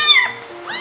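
A 1.5-month-old ragdoll kitten, half black and half white, gives two close, high meows, the first longer and falling, the second shorter after a brief pause.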